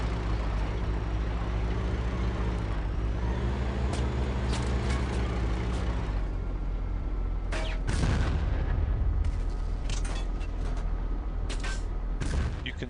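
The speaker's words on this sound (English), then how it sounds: "I had free reign to keep launching tank cannon shots at that enemy tank there" Tank cannon shots in Battlefield 1942 on the Tobruk map, a few booming blasts over a steady engine rumble, with no talking.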